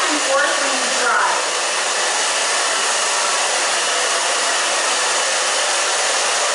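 A handheld hair dryer blows on short pixie-cut hair with a loud, steady whooshing roar that runs unbroken from start to finish.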